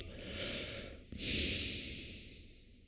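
Slow, audible breathing during a quiet meditation session: one long exhale, a brief catch, then another drawn-out airy breath, close and soft with no talking.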